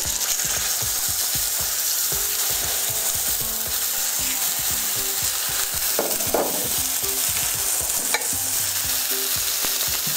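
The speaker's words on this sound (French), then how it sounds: "Pendant que les tourne-dos sont en cuisson" Tournedos steaks sizzling in a hot frying pan with a drizzle of oil, a steady loud crackling fry throughout with occasional stirring or shifting sounds and no talk.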